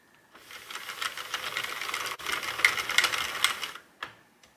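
A Sentro knitting machine cranked while testing yarn, its tension arm set to the middle position, gives a steady mechanical clatter and rattle with rhythmic clicks, close and fairly loud, a brief break midway, then a final clunk.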